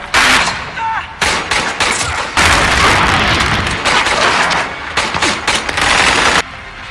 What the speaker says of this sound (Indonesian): Lisa membalas menembak.